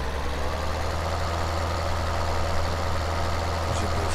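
A tractor engine idles in Farming Simulator 2013, a steady low droning hum with constant mechanical noise and no change in pitch or loudness throughout.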